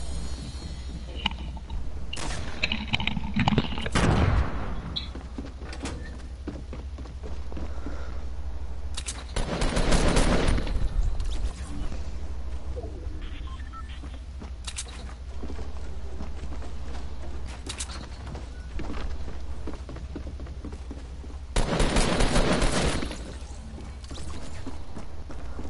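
Fortnite Battle Royale gunfire crackles through a busy game soundscape, with several dense bursts of rapid shots and scattered single cracks spread over the stretch.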